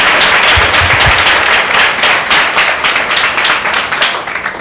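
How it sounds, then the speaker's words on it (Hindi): A church congregation at a meeting breaks into loud, sustained applause, dense clapping from many hands close by that stays strong throughout and eases slightly toward the end. "एक जोरदार ताली प्रभु के लिए।"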